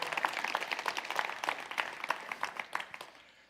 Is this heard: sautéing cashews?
no